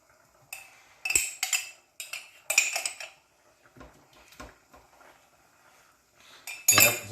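A spoon clanks and scrapes around a pot of chicken curry in a home kitchen, bursts of metallic clinking and rattling in uneven clusters with short pauses between, close and fairly loud.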